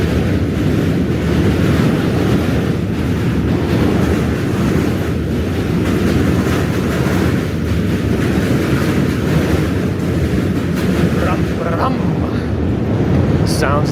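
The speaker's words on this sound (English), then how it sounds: "Sounds of the trains." Heavy rumble of trains crossing a New York bridge between Manhattan and Brooklyn, a dense continuous roar blended with wind buffeting the microphone, with brief metallic squeals near the end.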